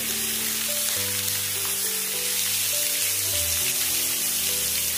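Potatoes frying in hot oil with salt and turmeric, a steady close sizzle with faint stirring under a low hum and no talk.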